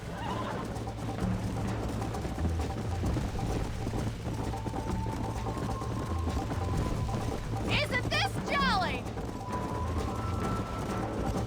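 Horses gallop in the Red Dead Redemption western video game, hooves clip-clopping in a steady run under game music, with a sharp whinny near the middle and characters talking throughout.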